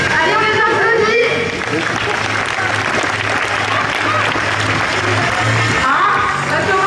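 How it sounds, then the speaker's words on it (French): A crowd at a sports awards ceremony in Châtillon-sur-Seine applauds in a loud, continuous wash of clapping, with a steady low hum and voices mixed into the noise. "Allez, on les applaudit."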